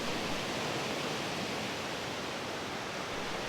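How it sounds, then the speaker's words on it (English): Waterfall on the upper Old Man River: a steady, dense broadband rush of falling water, even and unbroken throughout, with no voices. "the waterfall on the upper Old Man River is a lot easier to photograph than it is to fish"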